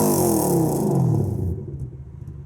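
A BMW E36 Touring drift car fitted with a Toyota 3UZ V8 pulls hard, its loud, close engine note rising through the gears before dropping off near the end.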